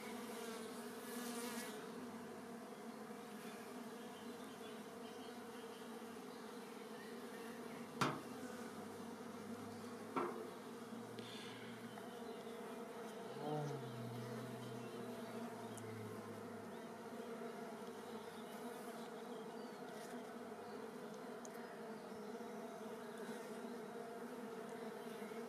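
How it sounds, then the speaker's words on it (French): Honeybees drone steadily around a cage holding a queen, a continuous close hum of many wings over a long stretch, with a few faint knocks and taps breaking through. "donc là les abeilles sont attirées, hein, vous voyez, là juste en bas, déjà elles s'en occupent"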